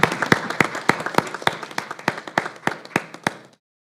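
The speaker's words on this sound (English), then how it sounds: "Let's give her one more round of applause." Steady rhythmic clapping at a school board meeting honoring a graduating student, roughly a dozen sharp, evenly spaced claps from a small group, fairly close, ending abruptly into silence.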